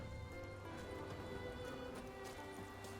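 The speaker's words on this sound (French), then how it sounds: "notre petit cheval" Horse hooves clip-clop steadily in The Witcher video game, on Skellige, a continuous rhythmic trotting with soft game ambience and music tones underneath.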